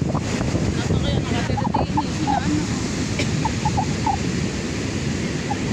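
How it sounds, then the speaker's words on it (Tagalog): Steady, loud wind roars and buffets throughout at a seaside resort hit by waves and a torn-off roof, with faint bird calls popping through now and then. "Lakas ng hangin na yan"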